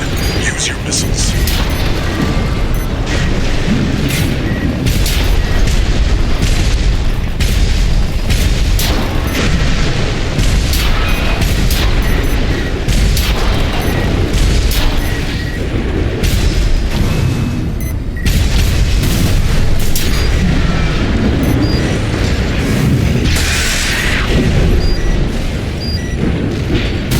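Missile explosions from Armored Core VI rumble in a constant barrage of heavy booms and blasts during a mech battle, loud and dense throughout with voices talking over the din.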